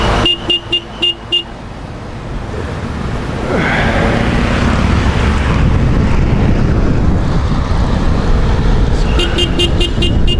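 Wind roars into the microphone during an outdoor cycle race at Simpson Bay, a loud, broadband buffeting that builds after a few short beeping tones at the start and then continues steadily, with some tones returning near the end.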